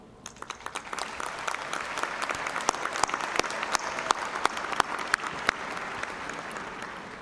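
Audience applause fills a commencement ceremony hall, a steady, dense patter of many hands clapping at moderate distance, sustained evenly with sharp individual claps standing out, no talk over it.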